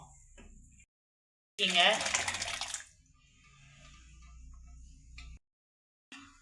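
Water is poured into a cooking pan of potato curry for poori, a short splashing burst of about a second between quieter kitchen background noise.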